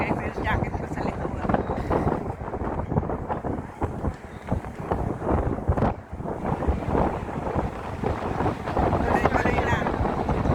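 Strong wind buffets the microphone on the upper deck of an open-top tour bus passing the IFC area in Hong Kong, a steady loud rushing roar throughout with people talking over it.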